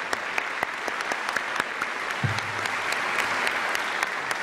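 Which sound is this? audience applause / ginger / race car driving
audience applause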